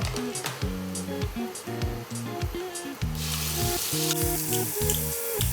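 Garlic sizzles and crackles as it fries in a pan for pesto fettuccine, with a steady hiss that grows brighter partway through, mixed under a prominent tonal background.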